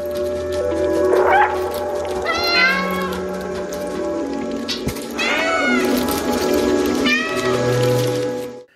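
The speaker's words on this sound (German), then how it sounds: "du hast eine Taste zum Miauen." A cat meows repeatedly in the video game Stray, several loud drawn-out meows spaced across a few seconds over a quiet ambient backdrop.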